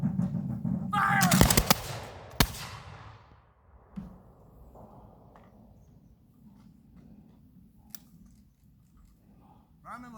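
A volley of black powder muskets fires at a safety certification class, producing a loud, close burst of nearly simultaneous shots followed by one more sharp crack. Quieter rustling and shuffling come after.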